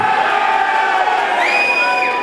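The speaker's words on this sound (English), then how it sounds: "Let's have a cheer for the red corner" A boxing crowd at a white-collar boxing event in Liverpool cheers for the red corner. Many voices shout and whoop together, loud and sustained from start to finish, with some higher-pitched yells rising near the end.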